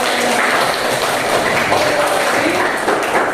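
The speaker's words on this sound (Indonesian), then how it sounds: "Iya, tepuk tangan." Classroom applause from students during a science lesson on pressure, a continuous blur of clapping at steady loudness, with faint tonal sounds in the room.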